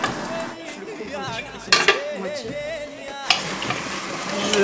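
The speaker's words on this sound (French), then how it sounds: "Je mélange un petit peu pour que les épices s'imprègnent un petit peu dans la viande et dans l'oignon." A spoon stirs a pot of harira, working spices into meat and onion, with scraping and clinking against the pot over a soft sizzle while a voice talks throughout.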